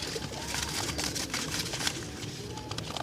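Pigeons coo over a busy Sunday bird market in Multan, their soft calls mixed into a steady wash of crowd noise and scattered clatter throughout.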